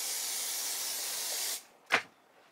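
Hairspray sprayed onto a lace wig: a steady, close hiss that lasts about a second and a half, stops, and is followed by one short, sharp spray burst.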